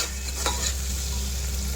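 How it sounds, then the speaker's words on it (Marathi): Masala sizzles and cooks in oil in a pressure cooker pan, a constant dense frying hiss with a brief stir-scrape near the start, close and unbroken. "बघा इथे मस्त असा मसाला शिजत घातलेला"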